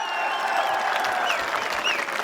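A crowd at a large political rally in Barmer applauding, with thick continuous clapping and a few whistles rising over it, loud and sustained for a couple of seconds.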